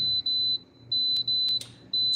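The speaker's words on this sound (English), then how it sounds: "I can't believe that I never know what that beep is" A fancy electric stove emits a loud, piercing high-pitched electronic beep in repeated long pulses with brief gaps, close and dominant over faint background noise.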